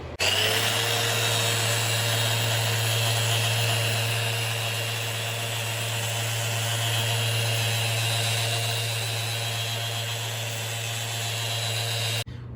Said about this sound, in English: we're gonna sand off the star bond that's filling these cracks